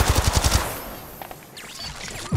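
Rapid automatic gunfire in the Apex Legends Mobile battle royale game, a quick burst of about seven shots followed by quieter distant shots and faint game effects.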